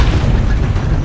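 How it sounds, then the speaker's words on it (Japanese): A ship's cannon fires in Assassin's Creed Brotherhood during a naval battle, a heavy, continuous low booming rumble that stays loud and dense for the whole moment, with no talk over it. "このさ、360度の大砲をもう360度ぶっ放していきたいんだけどな"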